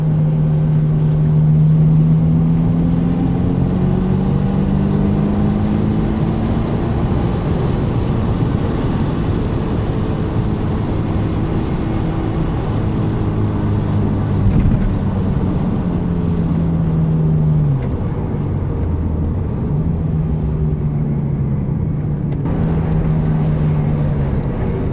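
A Ferrari 348 TS engine drones steadily from inside the cabin while driving, its pitch climbing and dropping through several gear changes, loud and unbroken with no voices.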